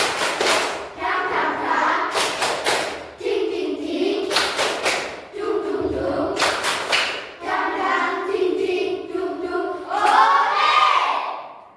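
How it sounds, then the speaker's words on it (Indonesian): A class of children clap together in rhythmic bursts of quick claps for a spirit clap, alternating with loud shouted chanting voices in Indonesian, energetic and close. "Kita tepuk semangat dulu ya. 1, 2, 3. Tepuk semangat."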